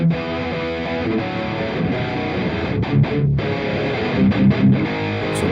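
Heavily distorted electric guitar plays loud, thick chords and short riffs through an amp simulator plugin on its modern, highest-distortion lead channel, with no talking.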